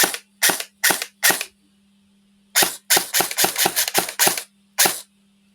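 An electric airsoft rifle (AEG) powered by a 7.4 V LiPo battery fires in short, loud bursts: four quick separate shots, a pause, then a rapid, closely spaced string of about nine shots ending in one final crack, with no talking.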